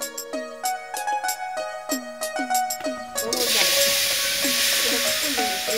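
Dudh puli pitha filling mixture sizzles loudly and steadily in a hot kadai while being stirred and turned with a spatula to keep it from sticking. The sizzle starts about midway and follows a tonal, voice-like passage.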